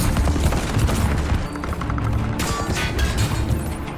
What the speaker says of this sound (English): They raised their rifles and opened fire in a wild frenzy.